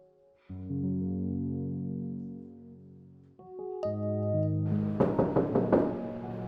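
A door is knocked on in a tense domestic scene, a quick series of raps near the end, heard over a sustained music score with no talking.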